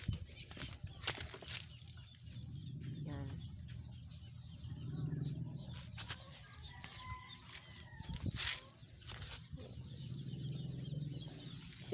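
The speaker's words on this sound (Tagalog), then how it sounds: "So ito yung kalapati niya." Pigeons coo softly alongside a few brief wing flaps and rustles, with faint distant bird calls in a quiet outdoor setting.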